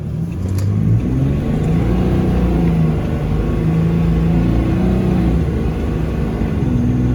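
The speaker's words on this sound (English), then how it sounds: "We're in 1st gear. We're gonna go ahead and full throttle it." Diesel truck pulling away from a stop at full throttle in first gear, a loud steady engine roar with rising drone held close and constant throughout.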